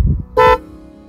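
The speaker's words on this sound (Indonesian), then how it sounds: "ini klakson udah diganti tadi, udah dinyalain, dia klakson kayak mobil gitu" A car-style horn fitted to a Bajaj Pulsar motorcycle gives one short, loud honk of about a quarter second, standing out sharply over a low idling rumble.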